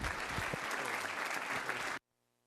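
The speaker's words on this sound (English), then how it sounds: "give them a little applause." A church congregation applauds a group of sisters, a dense burst of clapping that holds for about two seconds and then cuts off abruptly.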